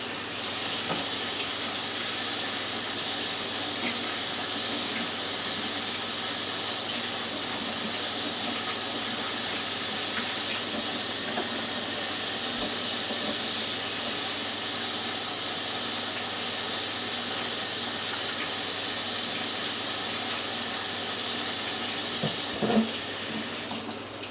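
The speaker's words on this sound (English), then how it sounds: "I'm going to wash my hands." Running water from a kitchen tap splashes into a sink for hand washing, a steady broadband hiss that continues evenly throughout with a faint clunk near the end.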